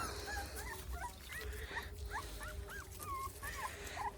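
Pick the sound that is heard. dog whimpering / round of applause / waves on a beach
dog whimpering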